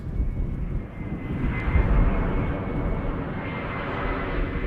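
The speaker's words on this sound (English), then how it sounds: "this airplane right here, already a bit further away. Yeah, that's Condor, alright. Already passed us by" A Condor airplane passes at Amsterdam Schiphol Airport, its broad engine roar fairly loud and steady, swelling slightly midway and then holding as it moves off.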